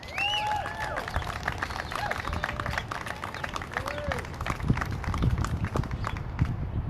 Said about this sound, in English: Can we give another round of applause to Corey?